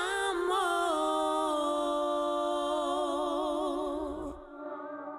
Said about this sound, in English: the very long tails of the reverb